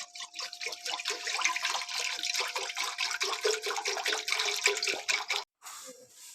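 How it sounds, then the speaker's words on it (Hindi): Water pours steadily into a kadhai set on a stove, a full litre going in as a continuous splashing stream for about five seconds before it cuts off abruptly. "चूल्हे पे कढ़ाई मैंने चढ़ा ली है। 1 लीटर पानी शामिल कर लेंगे।"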